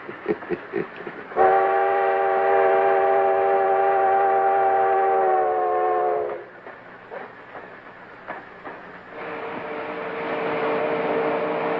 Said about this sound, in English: At the junction, Doc and Mike hop the locomotive.